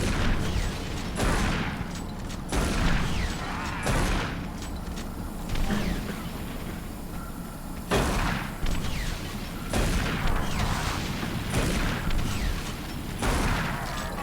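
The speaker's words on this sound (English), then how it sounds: "Let's use our shotgun again." Shotgun blasts in Doom 3 BFG Edition aimed at a Revenant, loud booming shots repeating at roughly one to two second intervals over a dense, noisy game soundscape.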